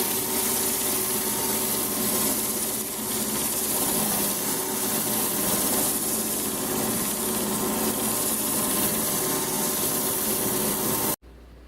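A wooden baseball bat being sanded with 100 grit sandpaper, a steady, continuous abrasive rasp that runs at even loudness close by and stops abruptly at the end.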